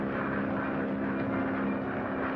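Steady, droning airplane engine in flight, a constant mid-volume hum with a low tonal buzz and no breaks, heard alone without talking.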